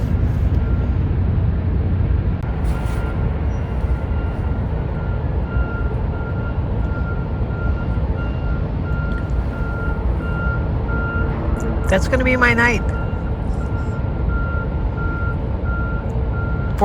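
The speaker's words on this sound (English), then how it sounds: "4 trucks, trains, machinery. Oh my." Trucks and machinery rumble steadily near a river island camp at night, with a reversing beeper pulsing repeatedly in a steady rhythm and a brief cluster of sharp clanks; someone speaks briefly.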